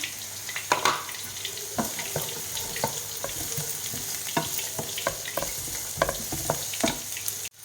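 Steady oily sizzling of onions and beans frying in a pan, with intermittent scraping and stirring clicks throughout, no voices.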